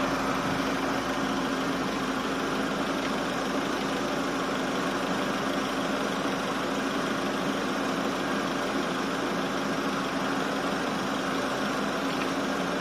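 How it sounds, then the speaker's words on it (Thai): Chevrolet Aveo car engine idling steadily while its air-conditioning refrigerant is refilled: a continuous, even mid-pitched engine hum with a faint vibrating rattle, close and unbroken, with no talking. "ก็ปล่อยรถ รอบเดินเบาไปเรื่อย ๆ นะทุกคน"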